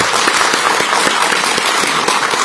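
Loud, sustained applause from a crowd at a Busan political rally for a local election candidate, dense clapping that holds steady throughout.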